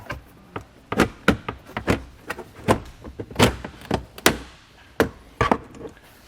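Plastic trunk storage panel on a vehicle being pried and popped loose during a Curt powered tail light converter install, heard as a series of sharp clicks and snaps, close and fairly loud, with no speech.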